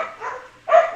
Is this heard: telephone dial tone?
no